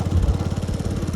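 A motorcycle engine strains during a tochan tug-of-war pull, its rapid, throbbing exhaust beats loud and close for a brief burst.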